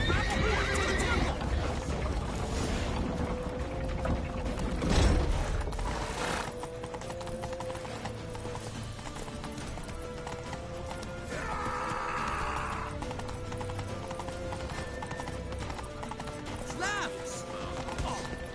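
Horses in The Witcher 3 video game neigh and whinny while hooves clip-clop in a steady gallop, set under continuous game music and shouted voices throughout.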